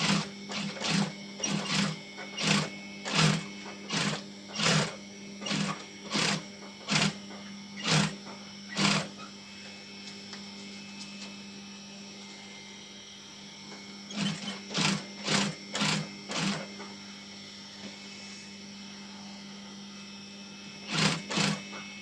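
A sewing machine stitches a heart-shaped fabric decoration in close, loud bursts of rapid needle strokes over a steady motor hum, running in three separate runs with quieter pauses between them.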